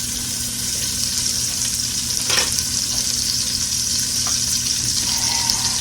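Salt pork frying in a pan with added bacon grease, a steady close sizzle and crackle running throughout with a few brief louder pops and spatters.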